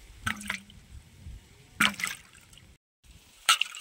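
Peeled raw green mangoes being washed in water, with a few separate splashing and sloshing bursts between short pauses, fairly close.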